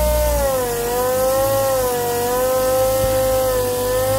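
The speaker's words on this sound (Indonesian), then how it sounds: "Penggunaan mesin amplas pneumatik seperti ini itu jauh lebih bagus dibandingkan Anda menggunakan amplas tangan ya." A pneumatic sanding machine runs continuously over a surface being sanded before epoxy painting. It gives a loud, close, steady whirring drone whose pitch wavers slightly throughout.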